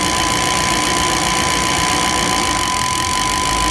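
A Chevy/GMC engine idles steadily after an ignition repair, a loud continuous mechanical running sound with a faint knocking rhythm and vibration, heard close up without any talk.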